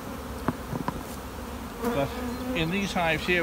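Italian honey bees buzz at an open hive, a dense steady drone with individual bees whining past close by, under a voice talking.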